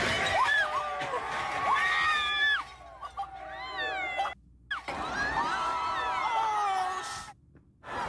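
A rioting crowd celebrates in the streets of Philadelphia after the Super Bowl, with loud, continuous cheering, whooping and high shouts from many voices, broken by a couple of abrupt cuts.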